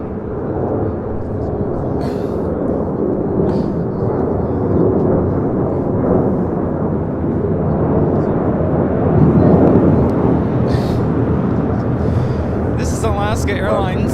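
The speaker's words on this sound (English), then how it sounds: "Alaska Airlines 286 taking off to Newark on a 737-800." An Alaska Airlines Boeing 737-800 taking off from LAX bound for Newark, its steady, broad jet roar rumbling continuously at a distance while people talk over it.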